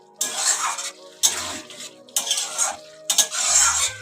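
Bottle gourd greens with mustard being stirred in a pan, four separate bursts of scraping and sizzling stirring strokes broken by short pauses, close and clear with no talking.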